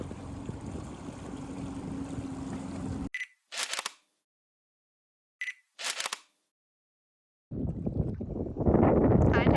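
Gusty wind buffets a microphone on a boat cruising from Georgian Bay to Tobermory, a loud, low rumble that drops out briefly, broken by a few short bursts, then returns strongly at the end.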